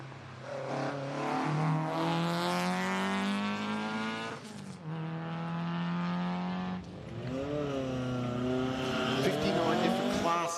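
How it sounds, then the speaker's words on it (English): A 2-litre Ford Escort Mark I race car screams through its gears at a sprint event, the engine note rising and dropping with each shift, loud and close, with a voice commentating over it. "2-litre Mark I Escort"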